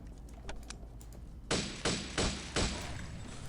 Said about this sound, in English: That will launch the grenade launcher.